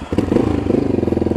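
A Honda XR650L motorcycle engine revs up close, a loud, throbbing rhythmic exhaust pulse that kicks in after a brief moment and holds steady for just over a second.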